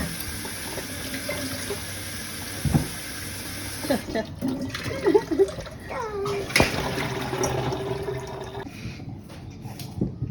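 A kitchen tap runs steadily while children wash food for hash browns. Splashing water and the clatter of dishes mix with children's and adults' voices talking over it.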